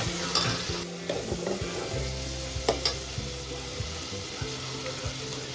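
Onions fry in a pan until browning for a Konkani crab curry, with a soft steady sizzle under repeated stirring knocks and scrapes from a utensil.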